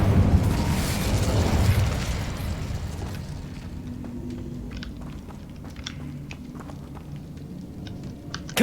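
A burst of fire from the Incendio spell in Hogwarts Legacy roars loudly for a couple of seconds, then fades into crackling, sputtering embers with scattered small pops.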